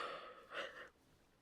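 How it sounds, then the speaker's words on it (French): A woman gives a short, breathy yawn in two airy swells, close and quiet, which trails off into near silence. "c'est marrant que ça sort en bâillement aujourd'hui"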